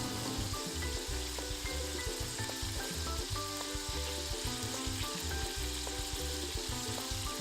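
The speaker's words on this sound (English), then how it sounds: "I'm adding some finely chopped onions, tomatoes and green peppers to this" Chopped onions, tomatoes and green peppers sizzle steadily in a hot pan used for keto meatballs, a loud continuous crackle with some stirring and scraping, no talking.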